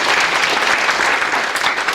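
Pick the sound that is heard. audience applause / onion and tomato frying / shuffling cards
audience applause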